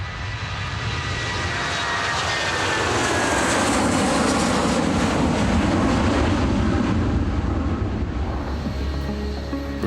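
A Britannia Airways jet on flight BY006, back from Menorca, arrives at Bristol Airport with a loud, broad engine roar that swells and holds steady, close by, with no voices.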